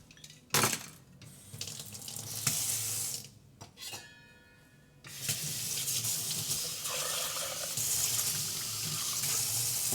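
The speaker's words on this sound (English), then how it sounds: "Add a little bit of soap to help things detach, some hot water as well." Hot water gushes steadily from a faucet into a sink for cleaning, with a loud splashing start, a brief lull midway, then continuous running water close by.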